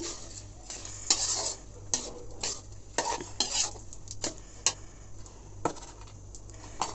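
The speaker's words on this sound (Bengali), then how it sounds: "চালটা আমি এখন একটু কষিয়ে নিব মশলা দিয়ে" Rice is stir-fried with spices for khichuri, a metal spoon scraping and clinking against the pot in irregular strokes over a soft, steady sizzle, fairly quiet and close, with no talking.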